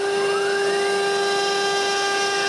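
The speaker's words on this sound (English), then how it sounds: "I can begin to cut the front rabbet for the plexiglass." A power tool cuts a rabbet in wood for plexiglass, a loud continuous high-pitched whine with steady tones that holds throughout.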